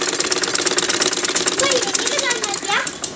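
A sewing machine stitches a curtain with a rapid, even mechanical clatter that runs continuously and close by, while people talk over it.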